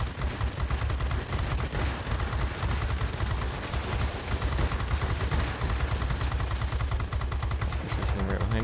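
Sustained 20mm cannon fire from a Spitfire XVI fighter in the World of Warplanes game: a dense, rapid, rattling stream of shots that runs loud and unbroken throughout, with a voice faintly underneath.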